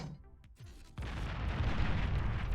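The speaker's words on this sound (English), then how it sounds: "as this bombing run comes in, we'll see how much damage it does" Bombs from an air strike in the strategy game Beyond All Reason land together as a deep, rolling burst of explosions that swells into a sustained rumble after a quieter lead-in.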